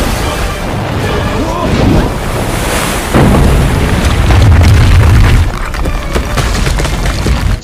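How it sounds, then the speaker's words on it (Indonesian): A film explosion as a petrol can ignites and blasts a giant anaconda and its nest, a loud sustained roaring boom with rumbling low end that swells midway, mixed with dense noise and no clear speech. "Bensin pun terbakar dan meledakkan anaconda itu beserta sarang mereka."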